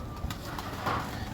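Pigeons in a pigeon loft of fancy breeds, cooing softly and close by in a short burst, with a low murmuring coo standing out over a faint background.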